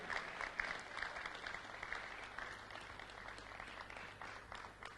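A conference audience at a Digital Africa event keeps clapping as a speaker walks up, a faint, distant wash of steady applause over a constant low hum.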